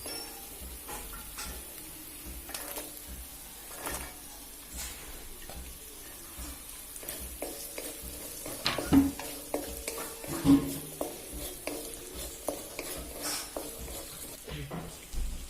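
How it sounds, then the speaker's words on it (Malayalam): Onions and mixed vegetables fry in ghee in a pan for vegetable biryani, with a soft sizzle under repeated scraping and clacking stirs that grow busier and louder midway. "നമുക്കതിലോട്ട് സവാള ആഡ് ചെയ്യാം."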